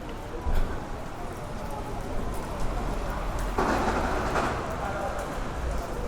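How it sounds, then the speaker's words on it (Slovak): Heavy rain pours steadily on the Amalfi Coast as a dense, continuous hiss. It grows a little stronger partway through, with a voice faintly underneath. "ale momentálne dosť prší"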